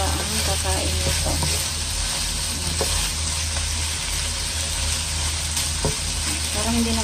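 Cabbage for chopsuey sizzles and fries in a pan while being stirred, a steady loud crackle with occasional scraping clicks of the utensil against the pan throughout.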